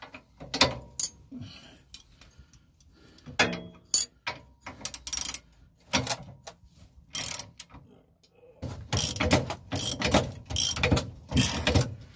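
Ratcheting wrench loosening a long bolt on the rear spring of a Transit camper van, with bursts of close, rapid clicking pawl sounds and metallic clunks between pauses, and some voices faintly present.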